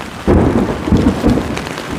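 Heavy rain pours down on a house construction site, with deep rumbles of thunder rolling in short bursts over the loud, steady downpour.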